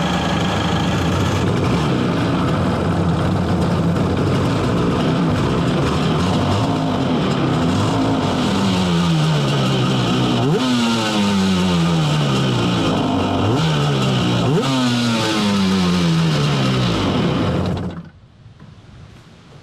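A vintage 550 jet ski engine with old race parts cranks over and runs loud and steady, with a rough revving tone that rises and falls in repeated swells before cutting off abruptly near the end.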